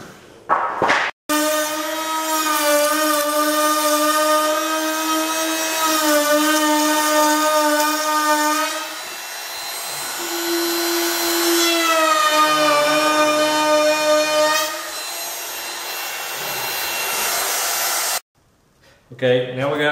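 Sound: router with a chamfer bit cutting wood

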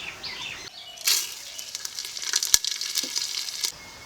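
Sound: bay leaf, whole garam masala and cumin frying in oil

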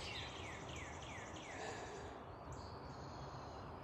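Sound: birds singing during a morning jog

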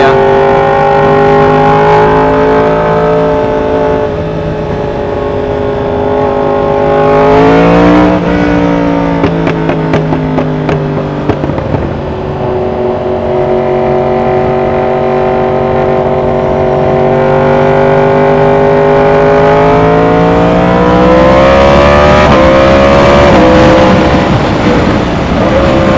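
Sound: Suzuki GSX-S 1000 motorcycle with new exhaust at high revs

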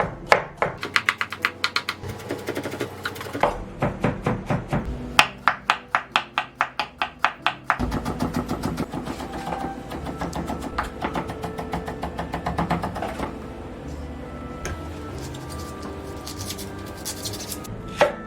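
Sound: knife mincing garlic

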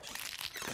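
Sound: crunching from crunchy peanut butter on closing door

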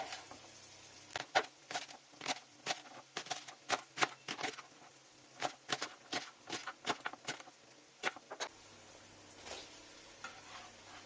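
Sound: chopping leeks with a knife

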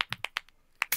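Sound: applause for Aldo

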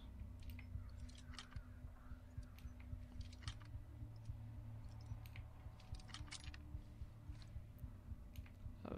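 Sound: lock being forced open in the video game Thief

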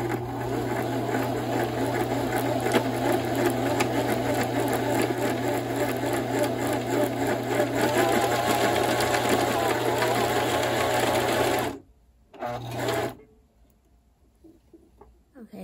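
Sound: sewing machine running

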